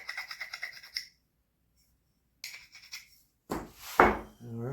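Burrs being filed off a small metal part during a Mini-Max 1030R build: short bursts of rapid rasping strokes, close and fairly quiet, with a pause between them and a louder scraping clatter at the end.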